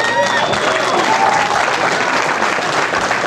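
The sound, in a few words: wrestling audience applause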